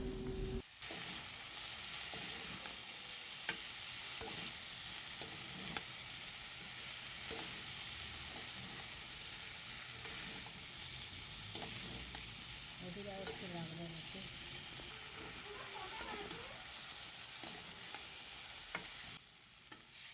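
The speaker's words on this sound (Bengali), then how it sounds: "সমস্ত মশলাটা এবার ভালোভাবে কষিয়ে নিতে হবে" Spices, broccoli, potatoes and tomatoes with cumin powder sizzle steadily in a pan while being stir-fried, a continuous bright hiss with occasional scrapes and clinks of the spatula, close and without talk.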